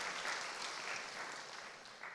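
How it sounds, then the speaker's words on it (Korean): A church congregation claps together during a Sunday worship service, a steady, fairly even wash of applause filling the whole stretch without speech. "내일 입대할 아들 위해서 박수 한번 해주세요."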